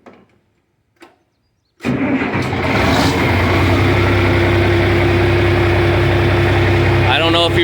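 A 1971 John Deere 4320 tractor with a straight pipe and turbo fires up after a few quiet clicks and then runs loud and close, holding a heavy, steady rumble, with a brief rise near the end.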